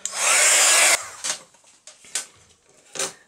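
A handheld heat tool blasts air to dry damp ink on a journal card, a loud steady whoosh lasting about a second, then cut off, followed by a few light handling knocks.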